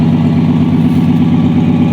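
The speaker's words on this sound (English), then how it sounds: "But as you can see, it's idling quite nice." A 1965 Dodge Dart with a Slant-6 engine and single exhaust idles after a cold start following months of storage, a loud, steady, close low rumble with an even throb and no talk.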